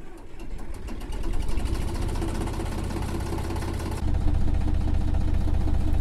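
Eicher Königstiger EA400 tractor in Farming Simulator 19 starting up, then settling into a steady, rapidly ticking mechanical idle that deepens and grows slightly louder partway through.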